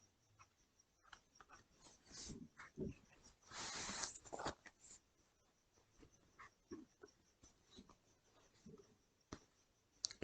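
A pen or pencil writes numbers by hand on paper during a class 5 maths lesson, giving faint, sparse scratching strokes with a louder burst of continuous scribbling in the middle and quiet gaps between.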